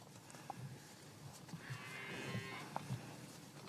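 Cows mooing on a farm: one drawn-out, mid-pitched moo in the middle, with scattered knocks and shuffling from the herd around it and a steady background of barn ambience.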